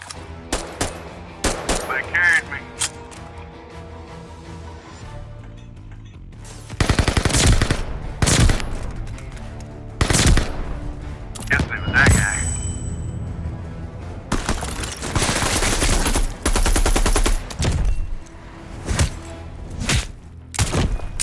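Heavy gunfire in Call of Duty Vanguard on PS5 during a hardcore deathmatch, with sharp rapid machine-gun bursts, single shots and thuds in loud clusters separated by quieter stretches of game noise.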